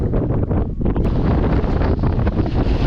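Strong wind on the ice-coated Ornak mountain ridge in the Tatras roars loud and continuous, battering the microphone with heavy buffeting gusts throughout.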